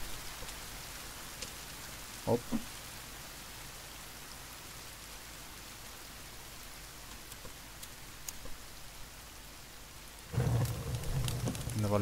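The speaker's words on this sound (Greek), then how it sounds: "Επιτέλους βρέχει, παιδές." Steady rain pours down in The Forest survival video game, a constant hiss that runs throughout, with a brief spoken interjection and a louder, denser burst of sound near the end.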